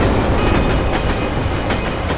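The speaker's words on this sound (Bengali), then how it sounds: "আর ট্রেনের আওয়াজও শুনতে পেয়েছিলাম আমি।" A train rolls along a railway with a continuous clickety-clack of wheels over the rail joints, close and loud, with no voices.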